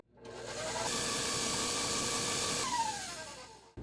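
Electric hand mixer whisking low-carb Irish cream cupcake batter, a steady loud motor whir that rises in pitch midway and holds, then winds down near the end, with no talking.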